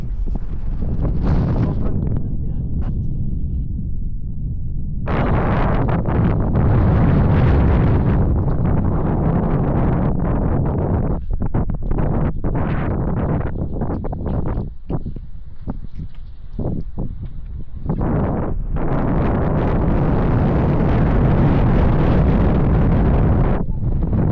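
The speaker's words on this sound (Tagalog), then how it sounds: "Sa ngayon sobrang lakas ng hangin dito." Strong wind blows across a high spot in Mountain Province, roaring and buffeting the microphone in loud, sustained gusts with brief lulls near the start and midway.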